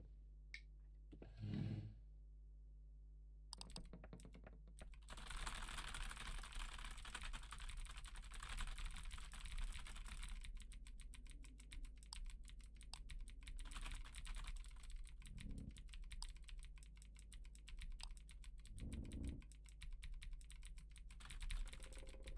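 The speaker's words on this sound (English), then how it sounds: "Why does the keyboard sound like there's two people typing? Because it's me. I'm aggressively typing with all my fingers." Fast, forceful typing on a computer keyboard, dense rapid key clatter that runs nearly continuously after a couple of short opening bursts, close and loud, with brief pauses and no speech.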